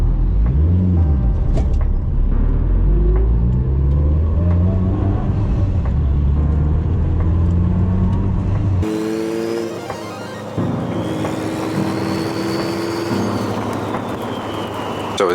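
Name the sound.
Mitsubishi Evo 8 car driving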